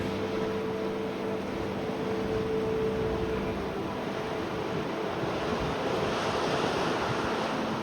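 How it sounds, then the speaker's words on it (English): Pacific surf rolls in at Harris Beach in Brookings, Oregon, a steady, loud wash of breaking ocean waves with wind buffeting the microphone, no voices heard. "this is in Brookings, Oregon, Harris Beach, one of the most beautiful beaches in the world."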